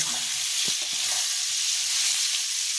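Potatoes sautéed with chilli and cumin powder in a pan produce a loud, continuous frying hiss with a few low scrapes of stirring near the start.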